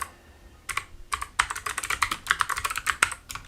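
Fast, uneven typing on a computer keyboard, close and clear, with dense clusters of sharp key clicks coming in bursts over a quiet background and no talking.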